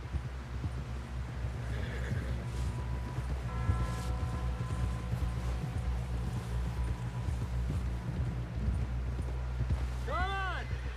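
Horse hooves galloping in a steady clip-clop rhythm in Red Dead Redemption II, with a loud whinny near the end and voices talking over the ride.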